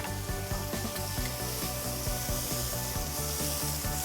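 Tri-tip steak searing in a pan, a constant crackling sizzle with a rhythmic low scraping and tapping pattern from the pan, no talking.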